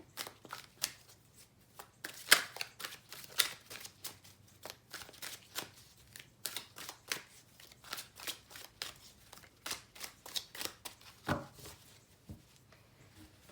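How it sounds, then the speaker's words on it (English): Tarot cards being shuffled and cut by hand, a quiet run of soft riffling snaps and taps close by, with a few sharper slaps as the deck is restacked. "I like to cut the cards 3 times to the left and restack them"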